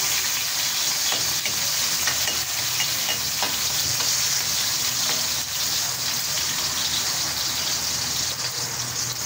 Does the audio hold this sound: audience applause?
no